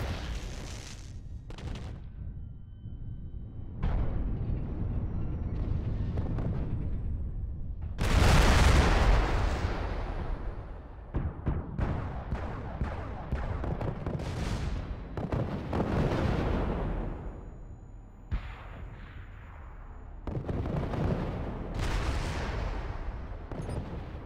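Weapons fire and explosions in a MechWarrior Living Legends battle, with loud repeated blasts and booming impacts. Gunfire bursts come in irregular clusters, with one heavy explosion midway, and little talk over them.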